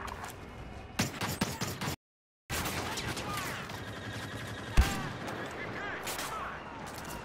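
Troops firing on walkers in a space combat video game, rapid volleys of gunfire with sharp cracks and one punchy hit, over a dense battle background that cuts out briefly.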